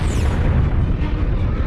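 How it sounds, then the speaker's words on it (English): A supernova explosion sound effect: a loud, sustained, deep rumbling roar that holds steady throughout, with no speech over it. "A supernova explosion is an incredibly powerful explosion."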